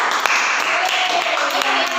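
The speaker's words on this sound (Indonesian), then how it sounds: "Tepuk tangan dong" Classroom students clapping their hands together, a dense, continuous patter of many hands close by with a few sharper individual claps, with voices mixed in.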